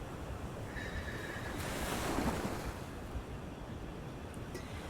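Ocean waves wash in a soft, continuous hiss of surf with a gentle swell in the middle, a calm, breathy seaside wash alone with no voices.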